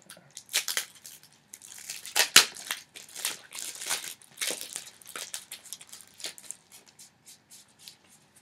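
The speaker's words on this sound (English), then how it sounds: "we have these two packs. Why don't you open one, I'll open the other" Foil booster packs from a Rivals quick start trading card set are torn open by hand, giving close crinkling and ripping bursts that come and go, then fade into softer rustling.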